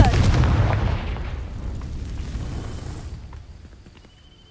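The Confringo fire spell is cast in the video game Hogwarts Legacy, giving a loud fiery blast at the start that rumbles and fades away over several seconds.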